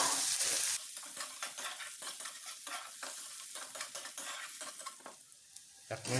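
Ginger and garlic frying in a pan for an Assamese fish curry, with a steady close sizzle broken by repeated scraping and stirring strokes of a spatula against the pan, pausing briefly near the end.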